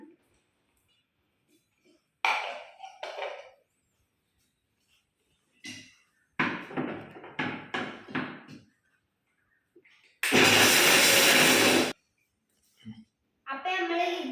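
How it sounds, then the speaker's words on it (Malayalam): A mixer grinder whirs loudly in one burst of under two seconds, with talking and light kitchen clatter before and after. "നമ്മൾ ചുട്ടെടുത്ത ചക്കക്കുരു നമ്മൾ ഈ ഒരു മിക്സിയിലിട്ടാണ്ട് പൊടിച്ചെടുക്കണം"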